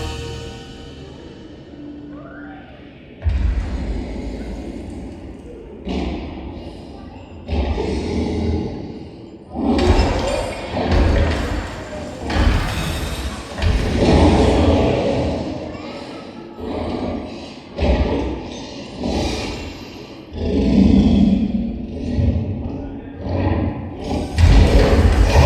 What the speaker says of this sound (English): This is when Gringotts gets attacked by a giant dragon.